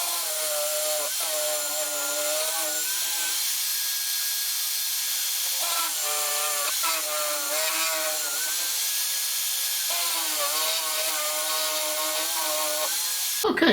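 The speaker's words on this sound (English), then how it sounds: "So I'll drill pilot holes through these, and then I'll be drilling a tapping size for" A drill boring 4 mm pilot holes through CNC router gantry side plates, whining steadily in several bursts with brief pauses between them, close and fairly loud.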